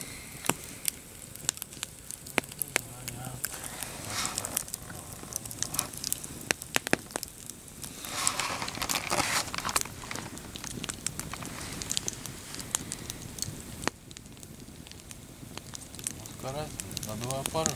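A campfire burns on a lake shore during an overnight fishing trip, popping and crackling softly at close range under quiet talk.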